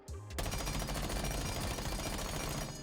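Rapid automatic gunfire with a muzzle brake attachment in the Rainbow Six Siege video game, a loud, dense burst of shots fired continuously for nearly three seconds after a brief lead-in.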